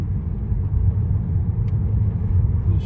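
A Honda Vezel driving along, heard from inside as a steady low road rumble and engine drone with no sharp changes.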